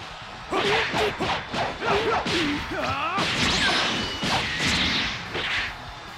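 Light and heavy attack combo from Dragon Ball Xenoverse, with a rapid series of whooshing swipes and whip-like strikes building into heavier thwacking blows and crashing impacts, loud and close, over a steady background with no talk.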